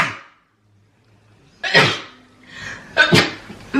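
A person with a cold sneezes up close: two or three sharp, explosive bursts with quick breaths between, after a brief faint exhale and a quiet pause.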